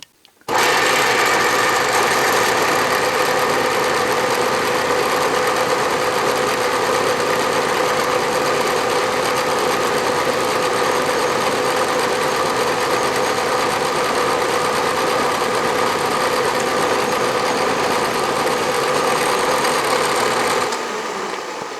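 A milling machine with a sharp carbide cutter cuts metal in a continuous, loud, steady grinding whine with a broad gritty texture and constant motor hum, starting abruptly and running unbroken until it stops near the end.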